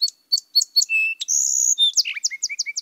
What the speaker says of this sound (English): Let's play the song of the song sparrow.